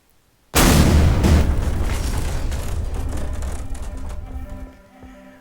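An artillery bomb from the GBombs 5 mod in Garry's Mod explodes with a sudden loud boom, followed by a long rumbling roar that slowly fades over several seconds.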